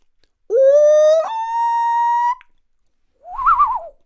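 A person whistles in imitation of a common loon's call: a loud, sustained rising tone that steps up and holds for about two seconds, followed after a pause by a shorter wavering, yodel-like phrase.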